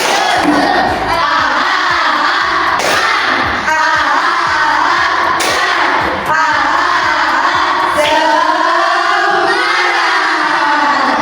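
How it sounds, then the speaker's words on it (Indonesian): Schoolchildren in a classroom doing rhythmic spirit clapping, with loud group shouting and chanting over sharp, repeated claps at intervals. "Beri tepuk semangat."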